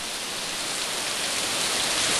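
Heavy rain pours down in a dense, hissing wash that builds slightly in loudness, steady and unbroken with no voices.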